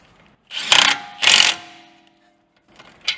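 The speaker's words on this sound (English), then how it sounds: "it's nice to use the impact and just drive it on" An impact wrench drives a 16mm nut onto a sway bar end link during a BMW F30/F31 suspension install, giving two short, loud rattling bursts close together and then a fainter, quieter tail.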